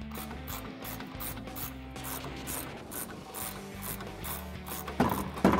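Quick metallic ratcheting while a rusty jam nut is backed off a tie rod on a Toyota Tacoma truck, a close, fairly quiet, steady series of clicks with no talking.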